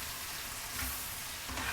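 Chicken karahi curry with cumin and coriander powder sizzling steadily in a pan, a continuous close frying hiss with faint stirring, no voices.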